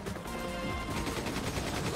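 Rapid automatic gunfire from Resident Evil 5's Mercenaries mode, a dense, continuous burst of loud shots with no pauses for reloading and no talking.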